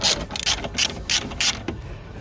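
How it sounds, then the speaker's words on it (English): A socket ratchet with an extension turns 10 millimeter bolts on a 2010 Toyota RAV4 diesel during a fuel filter replacement, five quick bursts of close, loud clicking in a steady rhythm. "10 millimeter bolt head, get a socket, ratchet extension,"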